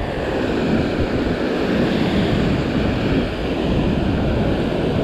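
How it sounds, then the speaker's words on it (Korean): Strong sea waves crash against a rocky fishing shore, a loud continuous roar of surf mixed with wind buffeting the microphone, steady and close throughout with no one speaking. "파도가 상당히 세죠?"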